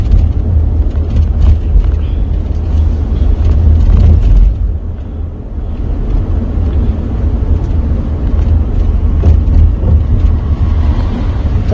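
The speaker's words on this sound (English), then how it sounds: "That's a car on the side of me." A car passes in the adjacent lane of a two-lane road, heard from inside a moving vehicle as a loud, steady rush of road and wind noise that swells and fades slightly.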